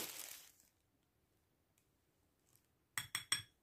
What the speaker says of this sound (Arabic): غناخدو واحد المعلقه تال جوج ديال المعلقات ديال الطين الابيض